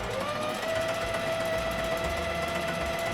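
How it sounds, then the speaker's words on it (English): A sewing machine stitching a lined dress alteration, running as a steady mechanical hum with a sustained whine throughout, close and fairly loud, with no talking. "Fingers crossed my sewing machine works"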